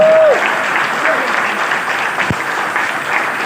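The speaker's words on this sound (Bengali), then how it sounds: "এত সুন্দর একটা প্রোগ্রাম অর্গানাইজ করার জন্য বিশ্বনাথ চক্রবর্তীর জন্য একটা জোরদার হাততালি হয়ে যায়।" An audience at a large seminar event claps together in a steady, continuous round of applause that stays even in loudness from start to end.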